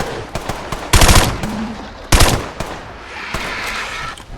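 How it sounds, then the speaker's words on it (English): Laser gun fire in the Fallout 4 video game, with sharp loud blasts and a couple of heavy bursts over busy combat noise, close and punchy. "The laser gun."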